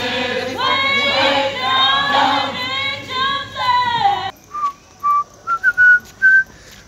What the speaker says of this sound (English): I'm whistling the tune from outside.